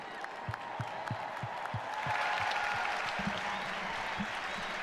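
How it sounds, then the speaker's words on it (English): A crowd at a PTFC For Peace charity match event applauds for UNICEF, with rhythmic clapping and low bass thumps at first, then swelling into broad, steady applause. "let's get a round of applause for UNICEF"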